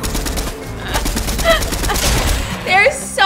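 A machine pistol fires in Fortnite, giving loud, rapid bursts of gunfire in quick succession among other busy game sounds, ending in sharp, clustered shots.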